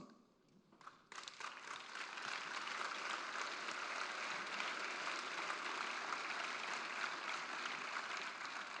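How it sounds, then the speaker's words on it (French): Audience applause after an opening speech at a French business conference, beginning with a few scattered claps and swelling into steady, dense clapping from a large crowd that holds evenly, no voices over it. "C'est sympa d'applaudir"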